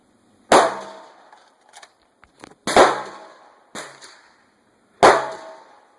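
Gunshots at a shooting drill range, four sharp loud reports spaced a second or two apart with short ringing tails and faint clicks between them, no talk.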